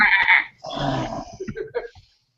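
Sheep or goats bleating close by: a wavering, quivering call followed by a longer, shakier bleat that breaks into stuttering pulses before fading into silence.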